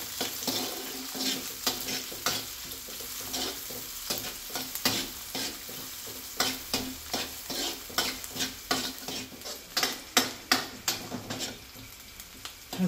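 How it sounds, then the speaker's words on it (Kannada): Onion fries with salt in a pan, a steady sizzle under repeated scraping strokes of a spoon stirring against the pan, close and fairly loud, with the stirs falling in an irregular rhythm. "ಹಸಿ ವಾಸನೆ ಹೋಗುವವರೆಗೆ ಹುರಿಬೇಕು ಇದನ್ನ."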